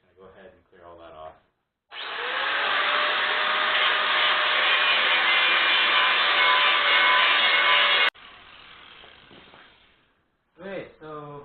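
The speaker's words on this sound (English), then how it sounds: "you'll want to take a grinder or a sander, and you'll want to take it all down to bare metal all here" Grinder or sander scraping paint and rust down to bare metal on steel angle for a homemade motocross ramp, one loud continuous grinding stretch of about six seconds, with brief talk before and after.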